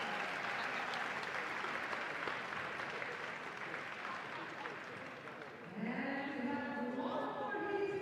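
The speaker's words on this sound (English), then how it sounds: "Another round of applause for Victor Schröder, everybody." A crowd at a fitness competition final applauds loudly and steadily, clapping filling the space, before a voice begins speaking over the fading applause near the end.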